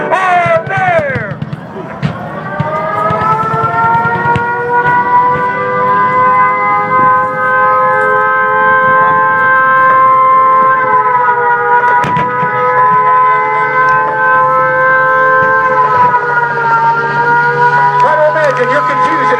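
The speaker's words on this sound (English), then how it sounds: "Hear the sirens, just as they did that fateful day." A long, wailing air raid siren holds a steady rising tone for many seconds, loud and continuous, with faint crowd noise beneath, recreating the Pearl Harbor attack.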